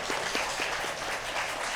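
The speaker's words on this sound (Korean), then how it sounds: "주례 목사님께 다시 한번 큰 박수 부탁드립니다" Wedding guests in a grand ballroom hall applaud the officiating pastor, a steady wash of clapping from a seated crowd, moderately loud and even throughout the short stretch, with no voices over it.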